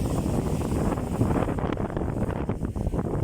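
Strong wind roars and buffets the microphone in continuous gusts on a shore by fishing boats, loud and close, with no voices.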